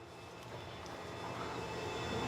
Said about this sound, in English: we'll be able to see how much thrust output this EDF unit gives us